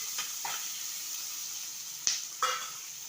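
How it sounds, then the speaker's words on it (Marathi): Onion and tomato fry in a pan for a spicy crab masala gravy, giving a steady close sizzle with a few sharper spits and clinks of stirring. "मी लगेच टोमॅटो पण टाकून घेते आणि कांदा टोमॅटोची मग ग्रेव्ही मस्त तयार होईल"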